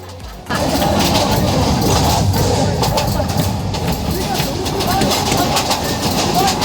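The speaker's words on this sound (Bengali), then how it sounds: "অনেকদিন পর ট্রেন জার্নি করছি" A passenger train runs on tracks toward Mohanganj station in Netrokona, Bangladesh, giving a loud, steady rumble with rhythmic clicking from the wheels that starts abruptly and continues close and unbroken.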